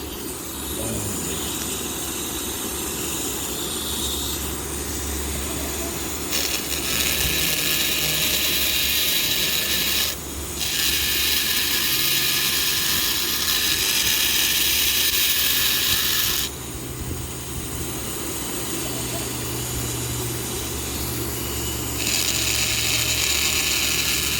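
A rotary carving tool running at 5,000–6,000 RPM grinds into fire agate chalcedony with a steady, close, high whine that shifts in pitch and intensity as the bit bears down and eases off, with no talk.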